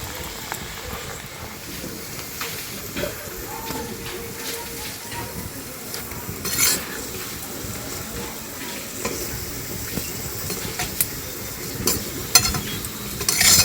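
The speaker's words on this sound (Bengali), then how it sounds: "অল্প একটু তেল দিয়ে কিন্তু এগুলো ভেজে নেব" Parathas stuffed with ripe mango fry in a little oil on a pan, giving a steady soft sizzle with occasional scraping and turning noises close by.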